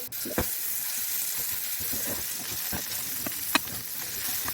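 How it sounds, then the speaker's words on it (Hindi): Ginger garlic paste frying with cumin in a pan, giving a steady bright sizzle and hiss with a few sharp pops and spatters, close and continuous with no voices. "मैंने यहाँ पे 1 टेबलस्पून भरकर अदरक लहसुन के पेस्ट ले लेना है। तो इसे भी हम भून लेंगे"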